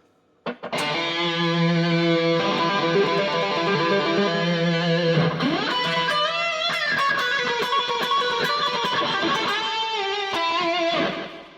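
Loud, sustained distorted electric guitar playing chords and bending notes, a thick, saturated tone ringing continuously for several seconds.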